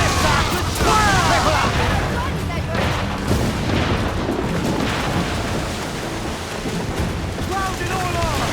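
Cannon fire booms through a naval battle in Assassin's Creed IV Black Flag, heavy rumbling blasts layered with crashing spray and shouting crew voices throughout, loud and dense from start to finish.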